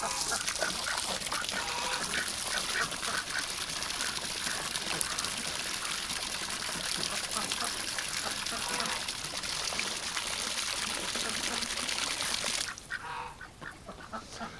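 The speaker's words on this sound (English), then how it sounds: "Alright, girls, I'm going to grab the hose. Don't splash me." A garden hose sprays water in a steady rushing hiss for ducks in a freezing -18°C winter yard, with occasional quacks mixed in. The flow cuts off near the end.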